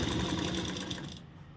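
A sewing machine double-stitches a salwar with a close, fast, continuous rattle that fades slightly toward the end.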